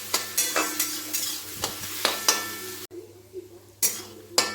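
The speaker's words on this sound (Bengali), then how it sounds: "নুন দিয়ে দিলাম, দিয়ে ভালো করে নাড়ছি" Jackfruit frying with salt in a pan, stirred with a utensil: steady sizzle under repeated scraping strokes and occasional clinks against the pan, close and fairly loud.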